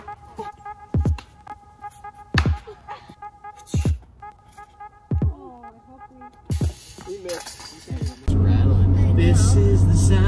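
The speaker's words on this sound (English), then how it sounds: "This is the sound of Liv's car rattling." A car rattles while driving, with loud, sharp clunks repeating roughly every second or so over a low engine hum, then giving way to a loud, steady road roar near the end.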